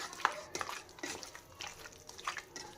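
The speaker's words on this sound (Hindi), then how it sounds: "इसमें हमने 2 चम्मच कॉर्नफ्लोर डाल दिया है। अब हमने अच्छे से इसे मिक्स कर लेना है" Marinated chicken being stirred with two spoons of cornflour to coat it, giving a few soft, spaced scrapes and clicks of a spoon in a bowl, quiet and close, with no talking.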